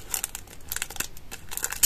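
Paper envelopes being torn open and plastic card packets crinkled, close up, with a run of quick rustling and tearing bursts and no talking.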